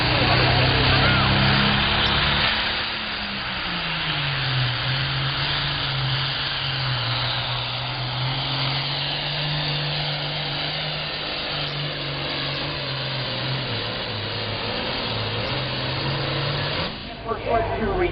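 A Case 2290 tractor pulls a sled at a county fair tractor pull, its loud engine drone holding steady and shifting slightly in pitch throughout, heard at close range with an announcer talking over it.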